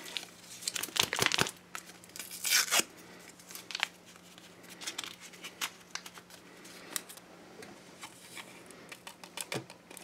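Hands tear and crinkle a US MRE coffee packet from the 2012 Menu 4 ration, a few loud ripping bursts then lighter rustling and faint crackles, close and alone.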